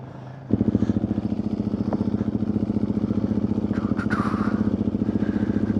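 An adventure motorcycle ridden downhill on a small training hill: a loud, close engine suddenly kicks in and holds a steady, pulsing drone throughout.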